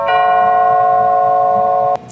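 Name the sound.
wireless doorbell chiming after being fixed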